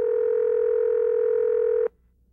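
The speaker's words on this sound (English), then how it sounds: "Constant ringing." A steady, loud telephone tone holds unbroken for almost two seconds, then cuts off abruptly into quiet.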